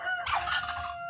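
A rooster crows once on a farm with hens, including a black sex link and a barnyard mix, nearby, a loud drawn-out cock-a-doodle-doo rising and falling over about a second, with no voices.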